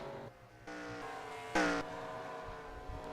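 Race car engine droning in a racing video game at Michigan International Speedway, a steady harmonic whine with a louder surge of revving partway through, heard alone without talk.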